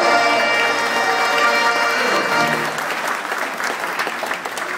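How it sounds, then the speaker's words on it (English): Sustained applause from a Fasching carnival audience at an American German club greeting Princess Myra and Prince Bill, dense and loud at first, then thinning into scattered claps. "Give her a round of applause."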